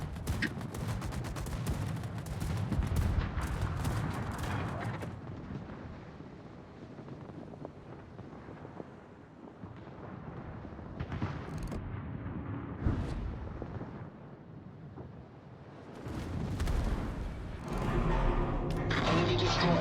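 Naval guns fire in a World of Warships-style battleship game with the Bismarck, heavy booming salvos and rumbling bursts rising and falling against a steady wind-like roar, loudest near the start and end.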